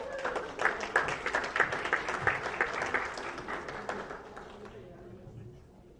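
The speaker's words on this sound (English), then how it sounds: "let's give them a round of applause as they head to the back" Applause from the audience at a school secondary geography bee, a dense patter of clapping that builds quickly and then thins and fades out toward the end, with some voices mixed in.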